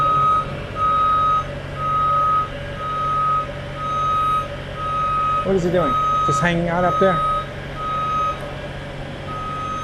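A truck's reversing beeper sounds in steady, evenly spaced high beeps over engine rumble in a Toronto city street, while someone briefly speaks partway through.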